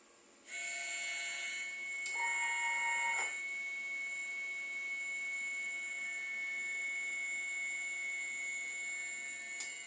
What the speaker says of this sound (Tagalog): Ito po ang aking printer.